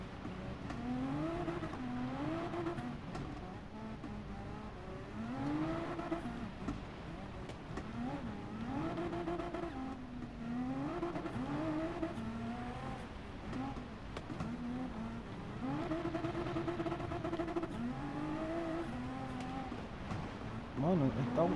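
Peugeot 205 Turbo rally car in Gran Turismo 7, its engine droning and revving in repeated rising sweeps as it races, with gear changes throughout, under an excited voice commentating.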